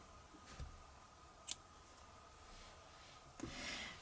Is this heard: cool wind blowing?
no